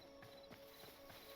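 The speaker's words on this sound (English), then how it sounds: "Let's go get my horse." Horse hooves clip-clop in a video game, four soft evenly spaced steps set against a constant faint tonal ambience and hiss.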